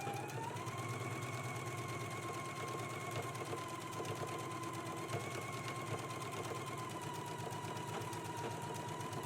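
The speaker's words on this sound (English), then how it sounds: "Once you have it pinned, we can stitch in a 5/8 of an inch seam allowance." A sewing machine runs continuously, stitching a 5/8-inch seam allowance on a collar for a Simplicity S3216 Gunne Sax dress, a steady fast whirring hum close by with no pauses.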